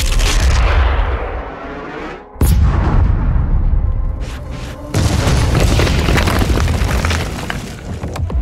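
Massive cannon blasts in a DOOM Eternal game cutscene, a loud booming discharge followed by a second heavy blast and rumbling, dense explosive roar throughout with no talk.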